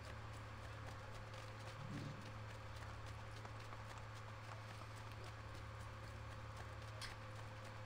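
Horse hooves clip-clop in Assassin's Creed Brotherhood, a faint, steady walking rhythm set under a constant game hum and ambient bed, with no talk.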